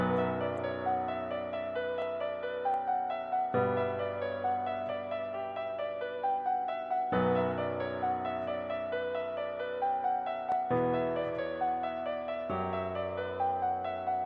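Piano melody from FL Studio's Keyzone for a Memphis rap beat, a looping sequence of plucked notes over sustained low bass notes that change every few seconds, clean and steady with no voices.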